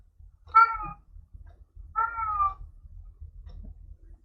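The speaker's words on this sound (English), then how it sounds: "Sound like a cat. Oh, is that a cat?" A cat meows twice, two clear mid-pitched calls about a second and a half apart, fairly close, with a faint low hum behind and no talk.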